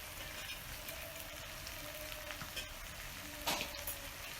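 Spices frying over a wood fire for Assamese village-style goat meat with tomato, a faint steady sizzle with a few scraping spatula stirs and one brief louder clatter.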